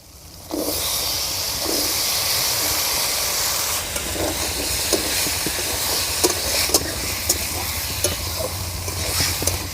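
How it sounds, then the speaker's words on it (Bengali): Cut potatoes drop into a pan of frying tomato and turmeric, setting off a sudden loud, steady sizzle that holds for the rest of the clip, with faint stirring scrapes. "এবার এর মধ্যে দিয়ে দেবো কেটে রাখা আলু"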